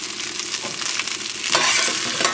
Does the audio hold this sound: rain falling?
no